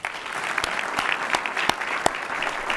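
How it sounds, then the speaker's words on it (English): A school board meeting audience gives a short burst of steady applause for a student golfer who advanced to the Tournament of Champions, with a few sharp louder claps standing out and no talk. "And I just want to applaud him for that."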